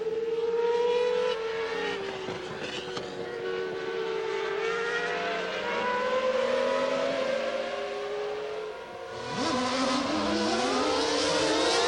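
A Formula 1 race car screams past at the 1995 Japanese Grand Prix, its high-revving engine holding a loud, continuous whine that rises and falls through gear changes, with a second car's note sweeping in near the end.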